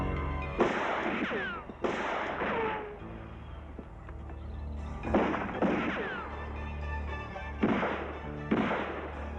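Gunfire in a French police crime-action series: bursts of loud sharp shots arrive in several close clusters separated by short lulls, with booming echoes trailing each volley.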